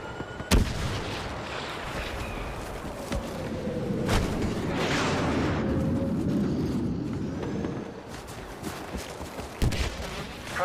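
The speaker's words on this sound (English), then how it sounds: "Rebel Y-Wings are making their attack run." Rebel Y-Wing attack run in Star Wars Battlefront, heard as a dense barrage of explosions and artillery-like booms, with sharp blasts near the start and end over a steady rumbling roar of battle.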